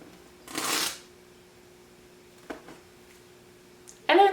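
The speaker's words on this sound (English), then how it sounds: "Favorite part, pulling up the tape." Masking tape is peeled up off a finished watercolor painting in a couple of loud, ripping bursts, separated by quiet pauses and a brief smaller tear.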